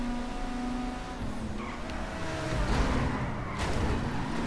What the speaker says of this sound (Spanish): creo que mi coche corre demasiado